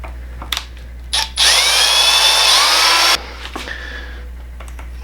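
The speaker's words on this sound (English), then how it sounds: "So we're gonna drill our pilot holes first." A power drill whines loudly for about two seconds, revving steadily while drilling pilot holes during speargun assembly, then stops, with a few small clicks and knocks before and after.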